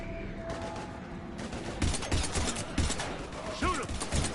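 Heavy gunfire in the sci-fi shooter video game Mass Effect 3, a dense busy clatter of repeated shots and mechanical rattles running steadily throughout at moderate loudness.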